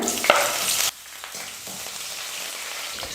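Cut green chillies hit hot oil with golden-fried urad dal and chana dal for semiya upma, a loud burst of sizzling that drops away after about a second to a quieter steady fry with faint stirring scrapes.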